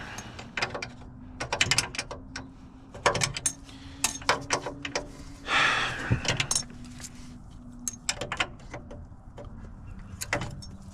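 A ratchet clicks in short, irregular bursts during maintenance on a Thermo King APU, close and fairly loud, with metallic taps, clinks and handling noises between the bursts.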